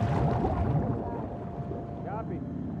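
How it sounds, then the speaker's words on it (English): A boat engine hums steadily in The Last of Us Part II with water and wind noise around it. A voice talks over the low rumble, and the engine noise eases slightly partway through. "Got the engine back up."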